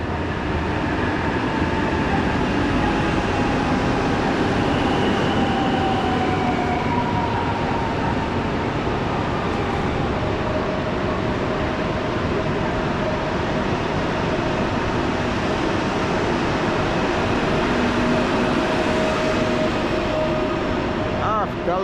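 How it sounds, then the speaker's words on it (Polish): Fredro passenger train from Wrocław Główny rolling into a Polish station, a long steady rumble of wheels and carriages with faint squealing tones, close and continuous. "Wjeżdża pociąg Fredro ze stacji Wrocław Główny"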